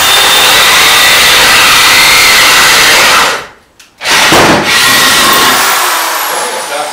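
A drill fitted with a 1.5-inch hole saw bores through a 2x4, giving a loud, continuous grinding whine that cuts out for a moment midway and then resumes.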